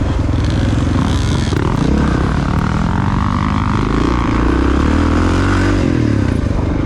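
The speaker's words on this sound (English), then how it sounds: "I'm riding a 1993 XR 600R. It's a Honda air-cooled 4-stroke bike." A 1993 Honda XR600R air-cooled four-stroke dirt bike rumbles loudly and continuously on an off-road race trail, its engine pitch rising and falling with throttle amid clattering from the terrain.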